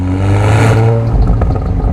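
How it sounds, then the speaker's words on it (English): A 2022 Volkswagen Golf R fitted with the optional four-pipe Akrapovic titanium exhaust revs loudly and close, a steady engine roar that swells and briefly climbs in pitch. "the optional Akrapovic titanium exhaust system with its 4 pipes. Visually impressive, with a sound to match."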